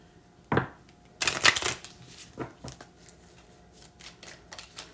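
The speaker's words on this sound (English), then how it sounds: "Let me shuffle a little bit." Tarot cards are shuffled close up in quick riffling bursts, a sharp flutter near the start and a longer rush at about one to two seconds, then lighter taps and slides of the deck in a quiet room.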